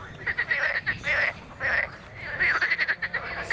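A chorus of frogs croaks at a pond in spring, with rapid pulsing croaks rising and falling in bursts, close and clear, with no speech.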